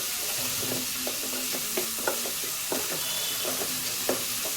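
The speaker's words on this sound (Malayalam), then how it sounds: "ഉപ്പും കൂടെ ചേർത്ത് നന്നായിട്ട് ഇളക്കി വെച്ചിട്ട് വെക്കണം." Mushrooms with salt frying in a pan, a steady hiss and sizzle with a spoon stirring through them in repeated scraping strokes, close and continuous with no talking.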